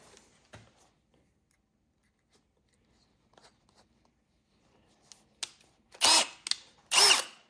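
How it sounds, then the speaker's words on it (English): A power drill spins up in two or three short bursts near the end, loud and close, after a stretch of near silence with faint clicks and handling, as a sheet metal patch is chucked in for shaping. "So I'm going to just take this now and chuck it into the drill."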